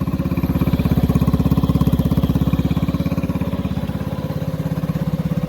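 A Honda ATV engine idles steadily and close by, its low, fast putter pulsing evenly with no voices, running on while nearly out of fuel as its carburetor needs a rebuild.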